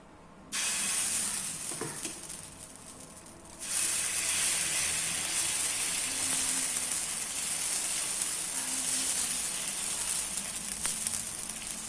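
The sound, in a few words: tapioca adai batter sizzling on a hot dosa tawa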